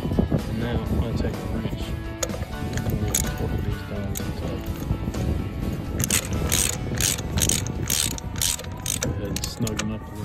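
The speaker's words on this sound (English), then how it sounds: "Take a wrench and we'll pull these down to the top." A ratchet wrench tightens bolts on a golf cart, clicking rapidly and steadily in close, loud runs that grow more distinct toward the end, with someone talking over it.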